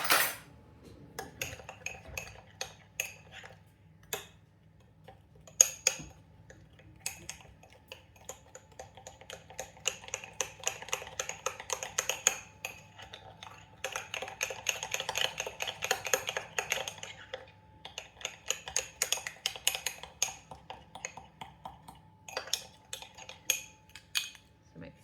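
A teaspoon clinks and scrapes repeatedly against a bowl while mixing a slurry for a fruity pudding, with busy metallic tapping in irregular bursts, close and fairly quiet, with no talking.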